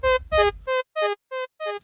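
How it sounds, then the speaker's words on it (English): Meris LVX delay pedal on a blank preset gives a basic delay: six short, evenly spaced tonal notes, the first two fuller with low thump and the later ones cleaner echo-like repeats, fairly quiet and alone. "Just a basic delay."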